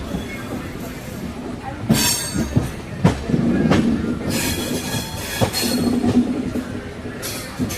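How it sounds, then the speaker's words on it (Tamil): Train cars roll through Mayiladuthurai station behind a WAP-7 locomotive hauling an ICF rake, with rhythmic wheel clatter, sharp metallic squeals and bursts of rail noise at moderate distance. "வேப் 7ஓட ஒரு ஐசிஎஃப் ரேக் நின்றுருக்கு பாருங்கள்"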